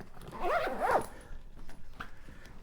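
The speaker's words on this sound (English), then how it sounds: "This all zips up nice and easy." A carry-on bag being zipped shut, one quick rasping zip with two rising sweeps near the start, followed by a few faint handling rustles.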